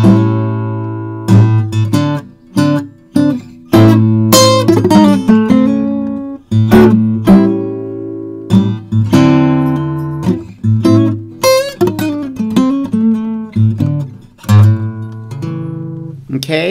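A guitar plays a quick melodic lick within a tune, bright plucked notes in fast runs and held tones, clear and close with no talking.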